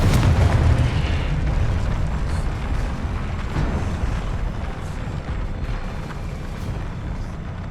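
A Confringo fire-spell blast in the Hogwarts Legacy video game, heard as a loud, sustained rumbling boom with a crackling burst at the start that rolls on steadily without any talk.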